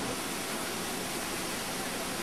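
Iguazu Falls on the Argentine side near the Brazil border pours out a steady, broadband roar of rushing water, constant and dense with no voices.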